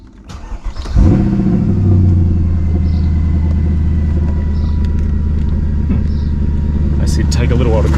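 A Mercedes W211 E63 engine cranks and fires straight into a loud, close, steady idle rumble with a slight rev, and a person talks faintly over it.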